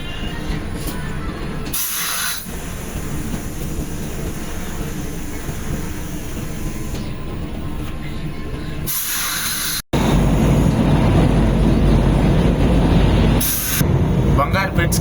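Madurai–Bangalore Vande Bharat Express train running, a steady loud rumble and hiss heard from inside, with brief bursts of louder rushing noise and a sudden jump to a heavier roar partway through.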